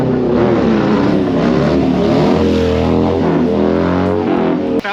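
An old Harley-Davidson motorcycle engine revs hard through a wheelie, loud and close, its raw pitch shifting up and down, followed by a brief dip near the end.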